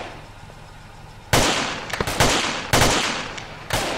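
Sharp blasts and bangs erupt in a military shooter game, a sudden loud explosion followed by scattered cracks of gunfire and further booms over a few seconds.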